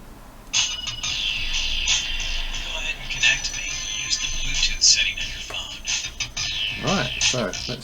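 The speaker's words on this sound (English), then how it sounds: "it plays this little bit of music while it's trying to connect" A Jabra Solemate Bluetooth speaker plays a short bright jingle of music while trying to connect, tones chiming steadily with small handling noises underneath.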